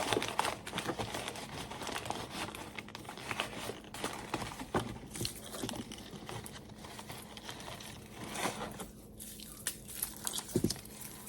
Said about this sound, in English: I tend to put at least a little bit of paper in the bottom.